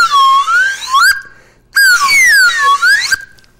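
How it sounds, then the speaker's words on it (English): A slide whistle played in two bright, close phrases, its pitch gliding smoothly up and down, with a short pause between them. "This is a slide whistle, of course."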